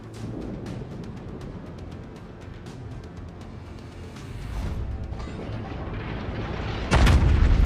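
The main guns of the Yamato battleship fire a salvo in World of Warships, a loud rumbling roar of naval gunfire that builds and ends in a heavy boom, with no voices.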